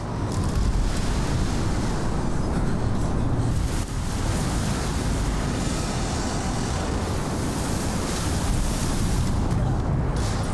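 Ocean waves surge and wash continuously, a broad roar of surf with wind buffeting the microphone, steady and fairly loud throughout with no clear voices.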